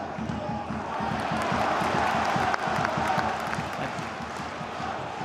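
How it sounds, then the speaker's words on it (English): Football crowd at a Wrexham AFC v Nottingham Forest FA Cup third round match, a continuous roar of cheering and chanting with rhythmic stadium noise, loud and steady throughout. "Crowd sensing it and reacting to it straight away"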